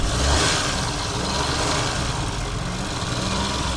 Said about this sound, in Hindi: गाड़ी का जी साउंड चेक करें, मैं ज़रा माइक नज़दीक करके चेक करवाता हूँ। इस तरह रेस थोड़ा रेस दे।